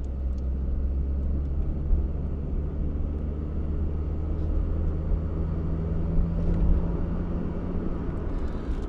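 A 1986 Corsa Litra SX hatchback pulls uphill under throttle, its engine giving a steady low-revving drone with heavy road rumble heard from inside the cabin, with no talk over it.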